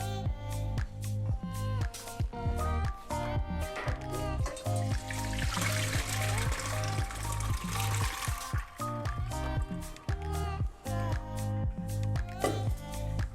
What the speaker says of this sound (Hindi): और इसके बाद हम इसके ऊपर से ठंडा पानी डाल देंगे ताकि इसका ओवर कुक ना हो ये।